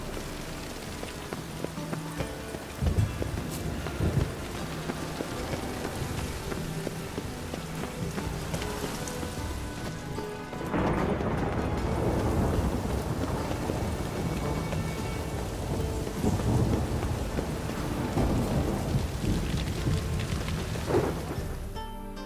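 Steady rain and rolling thunder from a storm in The Witcher 3 video game, a continuous wash of falling rain that swells louder midway, with deep rumbles underneath and no talking.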